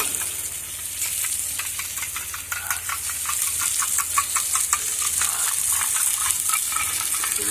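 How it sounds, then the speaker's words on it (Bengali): Sour yogurt being beaten with a spoon in a bowl, a quick rhythmic run of soft wet taps and clicks over a steady background hiss. "আগে চামচ দিয়ে আমি এই রকম করে ফেটিয়ে নিচ্ছি"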